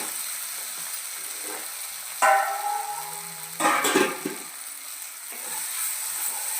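Phool makhana masala curry fries in a pan with a soft, steady sizzle, broken by a few louder scraping and clattering stirs of a spoon against the pan.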